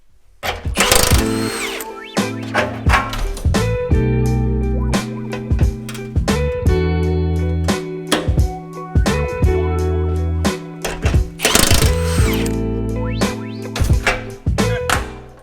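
Holes are punched in a car fender with a hand tool, giving a series of loud, close metallic clunks and ratcheting mechanical bursts in an irregular rhythm, with heavier clusters of strikes at the start and again later.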